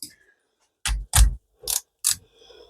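A socket wrench ratchets on a motorcycle fork during a fork oil change: four short, crisp clicking bursts in quick succession, close up and isolated against near silence.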